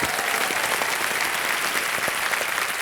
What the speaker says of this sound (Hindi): एक बार फिर तालियां जोरदार हैं